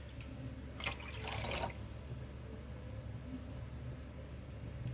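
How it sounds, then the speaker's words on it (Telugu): Water pours briefly into rice flour as a dough is prepared, a short soft splashing burst close by over steady low background hum. "కాబట్టి మూడు కప్పుల వాటర్ని యాడ్ చేస్తున్నాను"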